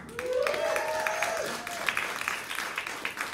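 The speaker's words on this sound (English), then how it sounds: "when I ask that question after doing jokes and you guys applaud so happily" An audience at a comedy show claps warmly, with a dense burst of applause that peaks early and then thins to scattered claps, while a faint voice and tone sound underneath.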